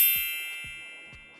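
A bright notification bell dings and rings out with a sustained metallic shimmer, followed by softer repeated tinkling strikes in a regular rhythm, clean and close, with no talking.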